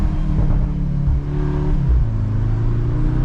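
Engine roar from a 2025 Audi S3 on a snowy road behind another car, a steady low drone with rising revs and slight fluctuations, close and fairly loud, no talk over it.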